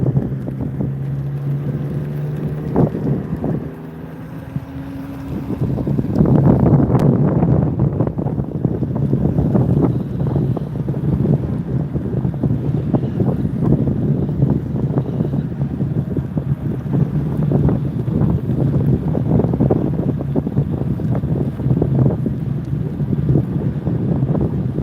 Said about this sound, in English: I am riding an electric unicycle.